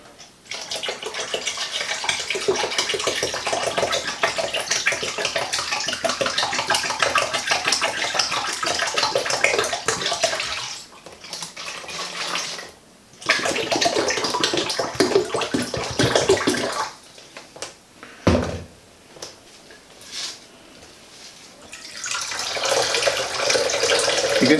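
Water runs steadily from a tap while acorn flour is rinsed to wash out its starch, a constant splashing gush that briefly cuts off and restarts several times.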